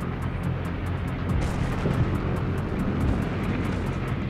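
Aircraft drone overhead in a naval warfare video game, a dense, even engine roar with faint rhythmic ticking above it, steady and without talk.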